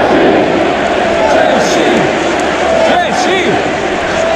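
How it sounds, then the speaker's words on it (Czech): A stadium crowd of Czech football fans roars and chants continuously in a loud, dense, reverberant wall of many voices, with rhythmic swells of shouting. "Fandí se, tak nesměle se fandí"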